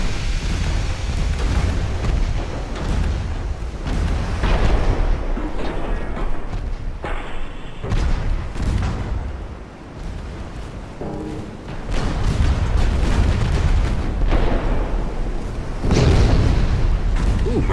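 Naval guns fire in the battleship game Ultimate Admiral: Dreadnoughts, set in 1890, with 10.7-inch guns among them: repeated heavy booms and explosions rumble loudly, broken by a brief quieter gap midway.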